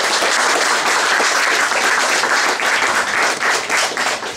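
Audience applause at a round-table discussion in a club, dense and steady clapping from many hands throughout, close and loud, with no talking.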